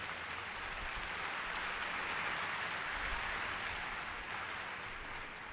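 Audience applause filling a room at a community dialogue event, steady dense clapping held at an even level for several seconds, fairly soft and distant, with no voices over it.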